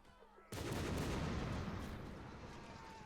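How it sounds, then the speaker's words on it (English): Explosions and gunfire at a historical reenactment battle at a regimental Christmas event, a sudden loud blast that sustains as a dense roar of bangs and rumble, with faint talk before it. "Explosions everywhere."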